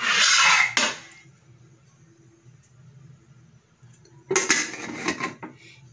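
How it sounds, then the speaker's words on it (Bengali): Metal clatter of a pressure cooker lid being fitted and locked onto the pot in a home kitchen, cooking cauliflower and mushroom roast: a loud scraping clank, a quiet pause with low hum, then more rattling clicks. "চলো এবার ঢাকনিটা আটকে দিই"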